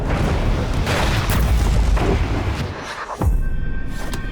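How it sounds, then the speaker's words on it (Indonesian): A city explosion from the Devil May Cry animated series strikes a truck, a loud, heavy boom with a rumbling, crackling tail that fades into a brief lull before another burst of noise. "Kemudian muncullah sebuah ledakan di tengah kota yang menimpa truk mereka."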